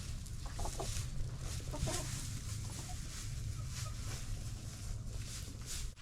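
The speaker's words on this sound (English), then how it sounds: "The chickens try to dig themselves out" Backyard chickens clucking in a scatter of soft, irregular clucks, half masked by steady outdoor noise.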